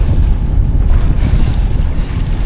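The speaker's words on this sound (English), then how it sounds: "I'm gonna run the engine for a while" A sailboat's engine runs steadily underway as the boat heads out, a constant low rumble mixed with wind buffeting the microphone and water noise around the hull.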